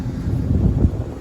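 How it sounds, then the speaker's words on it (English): Gusty wind buffeting the microphone in low, rumbling bursts, loud and close. "It's really windy up here right now."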